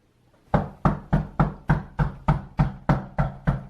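Ten evenly spaced knocks on a door, close and sharp, following a brief quiet moment with nothing else around them.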